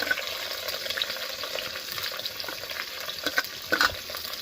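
Onion and green chili just dropped into hot oil in a pan, a steady close sizzle with a few brief stirring clicks.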